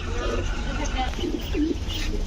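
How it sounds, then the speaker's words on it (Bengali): Pakistani Nazra bloodline pigeons coo in soft low bursts near the middle of the clip over a constant background hum, with faint voices nearby. "এগুলো সব নাজরার ব্লাড লাইনের কবুতর"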